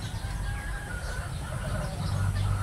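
Free-roaming hens of mixed bloodline on a Filipino backyard farm, with low clucking and soft fowl calls over a steady outdoor murmur.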